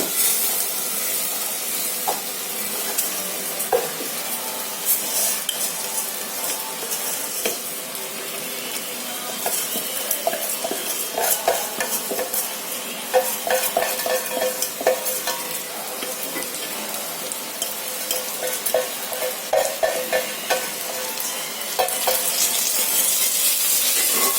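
Rice stirred into fried onions in a hot pan with ghee hisses and sizzles continuously, with repeated scraping stirs and clatters of a spoon close up over a steady frying crackle.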